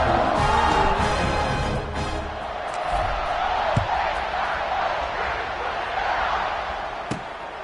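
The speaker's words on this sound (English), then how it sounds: "You think this crowd's going to get loud when their defense comes on the field?" Stadium crowd in the College Football 26 video game during a kickoff: a loud, continuous roar of cheering with a couple of sharp thuds, under game commentary.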